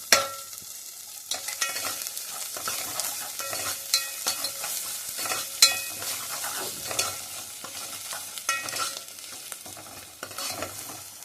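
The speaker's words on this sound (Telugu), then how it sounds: "ఇప్పుడు ఇందులో టమాటా, పచ్చిమిర్చి వేసేస్తున్నాను." Tomato and green chilli fry in a pan for ganji with a soft, steady sizzle, broken by repeated scraping and clinking as they are stirred, with no voices.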